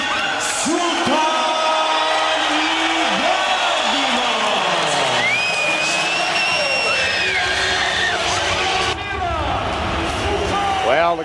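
A boxing arena crowd roars for Evander Holyfield, a dense, loud, sustained cheer with whoops and shouts running throughout, overlaid by announcers talking.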